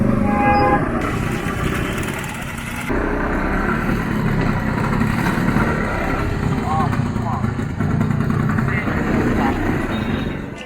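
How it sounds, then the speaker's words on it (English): A night train to Sapa rushes past very close by, a loud continuous rumbling roar with a horn sounding early on, heard among a crowd with people talking. "watching the night train to Sapa fly by just inches away"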